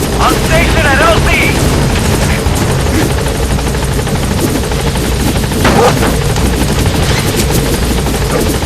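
A support helicopter in Metal Gear Solid V arriving at a landing zone: a steady, loud rotor drone fills the whole clip, with brief sharp bursts of gunfire-like cracks mixed in and a voice calling over the top.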